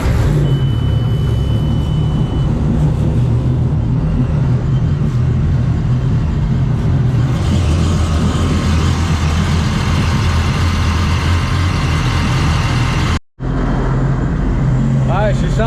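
A jet boat engine idles steadily and loudly during break-in, a constant low rumble with a brief dropout near the end.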